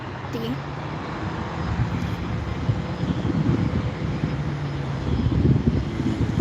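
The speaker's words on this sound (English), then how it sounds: "getting on the runway, here's our Beechcraft B200" A Beechcraft B200 twin turboprop taxis onto the runway, its steady engine drone and hum carrying at a moderate distance under broad outdoor noise, with a faint tone near the start.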